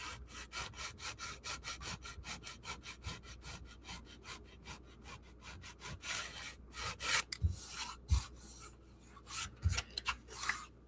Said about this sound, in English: I sandpaper the right way.